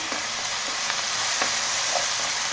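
Ground tomato paste frying in a pan while being stirred, a steady close sizzle with soft spoon scrapes and taps every half second or so.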